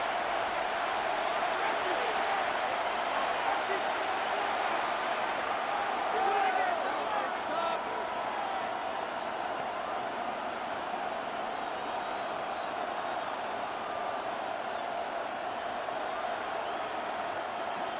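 Stadium crowd noise in the Madden 26 football video game at a Commanders vs Chiefs game, a steady dense roar of many fans on third down, holding at an even level throughout with no clear peaks or talk.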